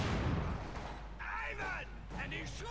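Mortar fire in Company of Heroes 2, a deep low-frequency rumble of distant booms and battle noise running throughout, with a few brief higher whistling and crackling bursts.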